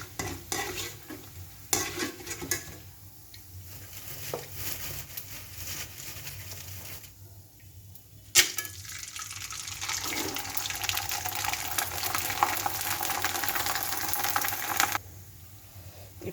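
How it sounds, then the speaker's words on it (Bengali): Papad fried in hot oil as an afternoon snack, producing a long, loud, continuous sizzle and crackle with bursts and short pauses, heard close up with no talking. "এই জন্য মনে করলাম বিকালে একটু পাঁপড়টা ভেজে খাই।"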